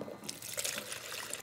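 Lacquer thinner is poured into a container to fill it partway for cleaning an HVLP spray gun, a brief close liquid splash and trickle.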